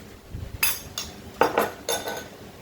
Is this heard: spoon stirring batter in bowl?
yes